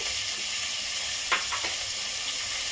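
Onion greens sizzle steadily as they fry in a pot for khichdi, a soft, even hiss at close range, with a few brief stirring scrapes in the middle.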